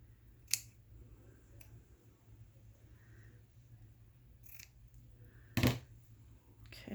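Scissors trim a small piece of paper for a handmade journal spine, making a few faint, separate snips and clicks against a quiet background.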